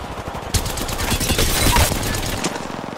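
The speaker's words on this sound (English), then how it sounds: "Got some enemies right here. Taking fire!" Rapid gunfire from enemies in Apex Legends on PS4, a continuous dense burst of shots lasting several seconds, loud and close, with no talking.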